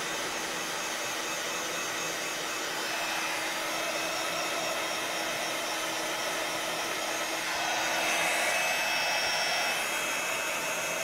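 A hair dryer blows steadily over mixed media artwork, a constant close-up roaring hiss that holds for the whole stretch and swells slightly near the end.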